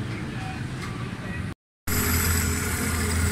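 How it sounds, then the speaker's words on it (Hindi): A Suzuki Alto engine runs steadily at close range after repair work on its faulty carburettor, a low, even idle hum that drops out for a moment and then returns slightly louder. "गाड़ी भी स्टार्ट है माशाल्लाह"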